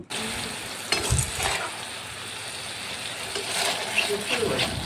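Pieces of pointed gourd (potol) sizzle steadily in hot oil in a frying pan, a close, continuous crackle with occasional stirring scrapes while someone talks over it.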